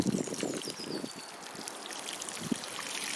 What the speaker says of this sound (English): by using this type of head, you get a diffuse flow of water